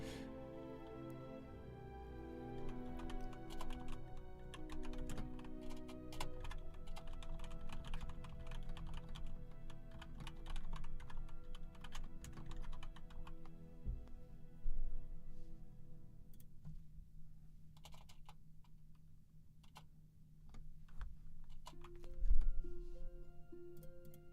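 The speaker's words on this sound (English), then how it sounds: "a little bit of typing ASMR for you" Someone types on a computer keyboard nearby in a long, steady stream of quick clicky keystrokes with brief pauses, the tapping thinning out toward the end.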